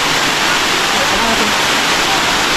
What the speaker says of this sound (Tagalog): Nakita natin falls.